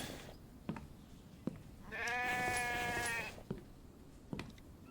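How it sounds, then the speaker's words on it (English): A single loud, drawn-out sheep bleat from a video game sounds close by, surrounded by quiet background noise and a few soft clicks. "That sheep is very loud."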